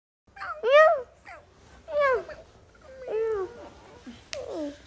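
A cat meows several times up close, the cries rising and falling with short pauses between them, heard alone in a quiet room.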